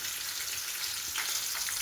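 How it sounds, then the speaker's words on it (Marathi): Green chilies sauté with cumin seeds in hot oil, making a steady, close, moderately quiet sizzle with a few faint crackles, with no voices. "जिरे छान फुलले की त्याच्यामध्ये मिरच्या टाकायच्या. मिरच्या थोडंसं परतून घ्यायचं."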